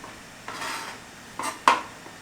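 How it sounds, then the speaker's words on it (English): A knife thin-slices a tomato on a cutting board, giving three soft, close cutting strokes, the last a sharper tap, over quiet room tone. "So we want to thin slice that tomato."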